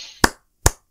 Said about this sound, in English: nothing tastes like victory more than the sound of one person clapping for you